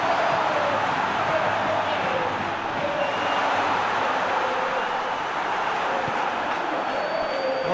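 A large football stadium crowd at a Champions League match between Real Madrid and Bayern Munich roars in a steady, dense wall of cheering that holds level throughout.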